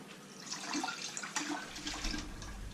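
Vegetable stock pours steadily from a pot in a splashing stream, close by and moderately quiet, with no talking.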